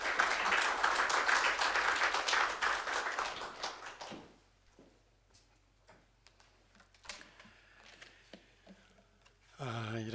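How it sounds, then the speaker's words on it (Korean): A church congregation at a staff worship service applauds to welcome the pastor, a dense burst of clapping for about four seconds that thins to scattered claps before fading. "목사님 나오실 때 박수로 환영하십니다"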